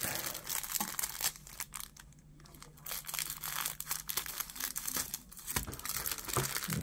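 Wrappers on 1984 Fleer football rack packs are torn open and handled, producing continuous close crinkling and ripping of packaging with bursts of tearing.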